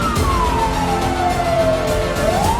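A loud emergency siren wails steadily at a fire incident, its pitch sweeping slowly downward and then starting to climb again, over a constant rumble of traffic noise.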